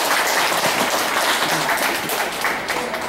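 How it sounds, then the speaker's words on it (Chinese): A crowd at an art exhibition opening gives warm applause: a short burst of dense, loud clapping from many hands that continues steadily without a break, with no voices. "我们给他热烈掌声一下。"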